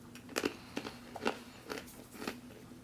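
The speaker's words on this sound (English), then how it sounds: "They're still crunchy." Crunching bites into stale crackers from a 2014 Halal MRE, five or six sharp, brittle crunches at uneven intervals, close and fairly quiet, with no talking.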